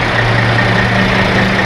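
An off-road fire engine idles close by with a loud, steady low engine rumble and a constant drone, no voices over it.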